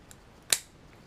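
One quick, crisp snip of scissors cutting material during a quadcopter build, close and isolated against a quiet background.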